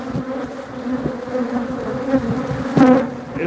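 A swarm of honeybees lands on and crawls over a person at close range, producing a dense, continuous buzzing hum with slight swells in loudness and no talking.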